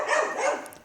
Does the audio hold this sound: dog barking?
yes